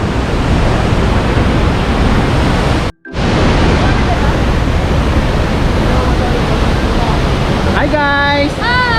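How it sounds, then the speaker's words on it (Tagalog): Bagongbong Falls in Biliran roars in a loud, continuous broadband rush of falling water, cutting out for a split second near the start, with a brief whistle-like tone over the wash toward the end. "Ayun ang falls."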